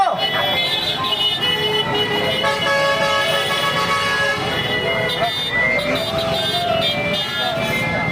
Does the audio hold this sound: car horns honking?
yes